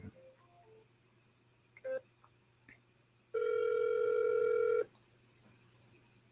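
A phone call is placed: a few short dialing tones sound near the start, then a single long, loud ringback tone holds steadily for about a second and a half before falling silent.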